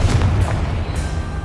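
Confringo blasting spell exploding in the Hogwarts Legacy video game, a single deep, rumbling boom that hangs on for over a second, loud and heavy in the low end.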